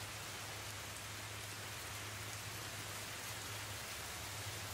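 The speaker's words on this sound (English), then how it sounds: "But it's cold out here," Steady rain falls outdoors in cold weather, a dense, even hiss with no breaks that runs the whole time with no voices.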